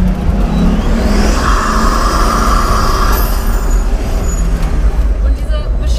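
A Pagani Huayra Tempesta accelerates hard, its engine roaring loudly from inside the cabin with a rising tone partway through, while a person talks over it.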